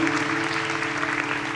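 A church congregation claps together in steady, dense applause with a faint hum of music beneath it.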